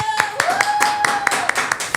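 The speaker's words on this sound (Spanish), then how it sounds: "para quien pedimos un aplauso" Applause for a guest on a political talk show, short sharp claps in a quick regular rhythm over a steady tone, close and clear.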